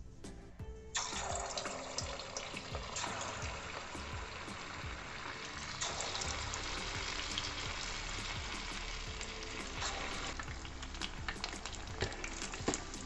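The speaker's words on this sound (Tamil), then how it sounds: "மீடியம் ஃப்ளேமில் வச்சுட்டு நம்ம சிக்கனை போடலாம்." Marinated chicken pakoda pieces deep-fry in oil over a medium flame, a steady close crackling sizzle with scattered pops throughout.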